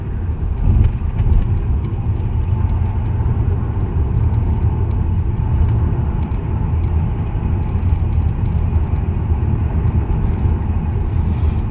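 A car engine hums smoothly and steadily while climbing a long uphill road at cruising speed, heard from inside the cabin as a continuous loud low rumble with road noise and no talking.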